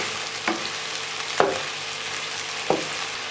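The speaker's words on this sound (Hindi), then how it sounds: "अब हम इसको 5 मिनट के लिए इसी तरह पकाएंगे और हिलाते रहेंगे ताकि नीचे से जल ना जाए।" Chicken karahi frying in a pan, with a steady close sizzle and three sharp scrapes of a spoon stirring against the metal, spaced about a second apart.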